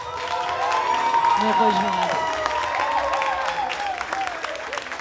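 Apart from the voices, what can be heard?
audience applauding the finalists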